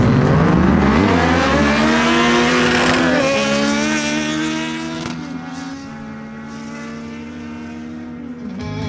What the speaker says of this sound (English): Next up, we have Martin Correa on his Kawasaki Ninja Z1000SX against Albiro Orozco on his Yamaha MT-09.